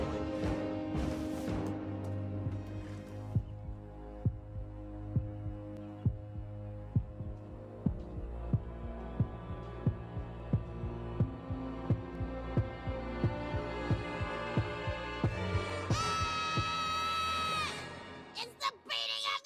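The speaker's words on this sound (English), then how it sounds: "It's the beating of that hideous heart!" A rhythmic heartbeat sound effect from a Rocket League game stream pulses steadily under music and a drone, with evenly spaced thumps continuing throughout before a bright tonal swell near the end.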